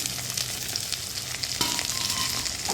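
Chopped tomato and capsicum fry in hot oil for a fish curry with papaya and potato, a close, steady crackling sizzle with a brief stir clatter partway through, no talking.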